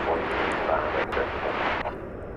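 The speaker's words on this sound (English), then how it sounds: "That is American Flight 1820 coming in from Ontario," An American Airlines jet arriving at DFW Airport from Ontario, California roars steadily on approach, loud and broadband, slowly easing off toward the end.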